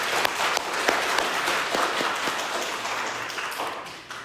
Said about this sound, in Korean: 우리 하나님께 우리 감사의 박수를 올려드리겠습니다.